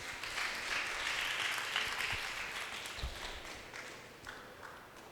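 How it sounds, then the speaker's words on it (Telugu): Applause from a youth meeting audience in a church fills the room, a fairly faint, steady patter of many hands clapping that gradually tapers off. "క్లాప్స్."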